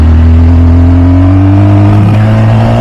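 A 2005 MV Agusta F4 Tamburini motorcycle engine revs loudly and close by, a sustained, strongly tonal roar that climbs slightly in pitch and then wavers and drops back near the end.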